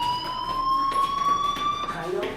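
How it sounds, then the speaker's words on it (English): Fire alarm ringing in the video game Life Is Strange, a steady electronic tone with sustained harmonics that runs unbroken throughout the clip at a moderate level. "Hey, do you hear that fire alarm?"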